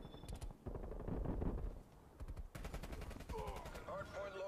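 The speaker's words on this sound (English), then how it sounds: "Using a grenade launcher." Grenade launcher firing in the video game Black Ops Cold War, heard as a string of sharp booming shots and explosions with rattling gunfire, close and punchy, with a few game voice cues between bursts.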